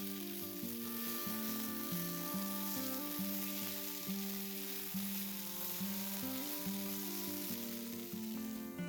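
Finely chopped capsicum sautés with softened onions in a pan, a steady close sizzle running under a sustained tonal hum from a kitchen appliance, with no talk.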